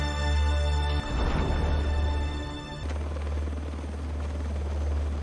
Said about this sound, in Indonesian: Ovi berhasil diselamatkan dan naik helikopter bersama Nick dan rekan-rekannya